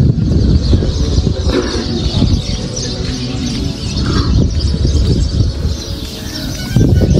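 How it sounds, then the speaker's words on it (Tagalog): Many birds chirp and coo together in a busy outdoor chorus at Al Dhafra Fort, Abu Dhabi, steady and fairly loud, with a low rumble of wind or traffic underneath. "Daming ibon"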